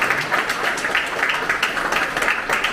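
A crowd at an Incheon election campaign committee's closing ceremony gives party staff a steady round of rhythmic clapping that runs through the whole stretch.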